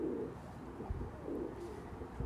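Pigeons coo softly and repeatedly over a low background hum, with a few faint chirps mixed in.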